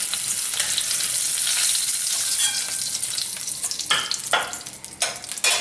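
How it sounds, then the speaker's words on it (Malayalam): Chicken pieces fry in hot oil in a pan with a continuous bright sizzle, alongside occasional scraping stirs that grow more frequent toward the end. "ചിക്കൻ കഷ്ണങ്ങളെല്ലാം നമ്മളൊന്ന് ചെറുതായി ഫ്രൈ ചെയ്ത് എടുത്തു."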